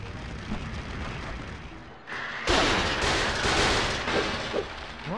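Cannon fire in a train-themed video game, loud booming blasts over a dense rumbling game soundtrack, with a sharp burst at about two and a half seconds followed by sustained roaring explosions.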